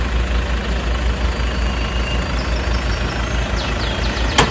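A 2011 Toyota Fortuner 2.4 G with automatic transmission runs at idle, a steady close low rumble with an even, unbroken drone and a small click near the end.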